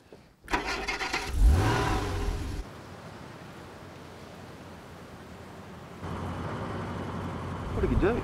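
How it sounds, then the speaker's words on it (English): An old, run-down car engine cranks and catches, then idles roughly at mid pitch before dropping back. It revs up again near the end, and voices talk over parts of it. "Started your car. Actually, it sounds pretty good, given the state of it."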